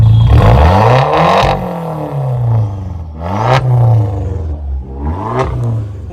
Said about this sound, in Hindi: मैं एक रेफ देता हूँ, you can take a listen